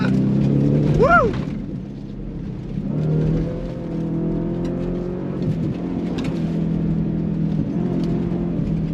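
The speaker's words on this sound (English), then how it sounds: "The sound of that V8 out of that Ford Performance Active exhaust, just really, really nice." A 2024 Ford Raptor R's V8 engine rumbles through its Ford Performance active exhaust, a steady low drone with a brief rising rev early on, heard from inside the truck.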